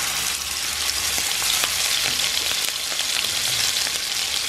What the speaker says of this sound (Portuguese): A frigideira já tá bem quente. Eu vou colocar o primeiro hambúrguer.